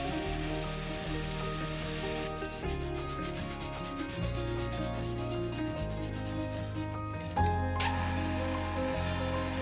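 Glued Damascus steel knife handle being sanded on a grinder, a close, continuous abrasive rasp in rhythmic strokes that pauses briefly and resumes, with no speech.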